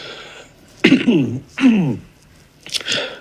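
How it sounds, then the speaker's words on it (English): A man coughs in a few harsh bursts, close up, with short pauses between them and no speech. "Look at him coughing."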